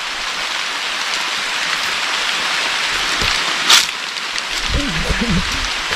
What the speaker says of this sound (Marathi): पाऊस पडायला लागला बघा